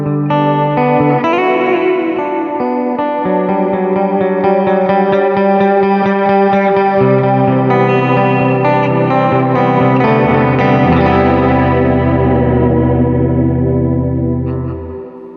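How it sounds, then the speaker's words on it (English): An electric guitar played through a Walrus Audio R1 reverb pedal, loud chords and picked notes swelling into a huge, washy reverb tail with shimmering, chorused sustain that fades at the end. "That's a big fucking reverb."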